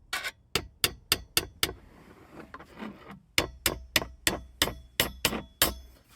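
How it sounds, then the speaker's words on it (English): Sharp metallic hammer taps fitting a tight console lid on a 1999-2007 Chevy, in steady rhythm: several strikes, a brief scraping pause, then a longer run of even taps, close and clear. "You might need to give this a little bit of a tap with a hammer."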